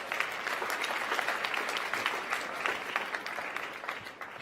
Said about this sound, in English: Please give those folks a round of applause.